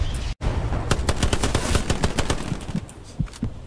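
Video game battle with rapid bursts of gunfire, sharp impact cracks and metallic pings as bullets strike an enemy soldier's helmet, loud and close in dense repeated volleys with no talking.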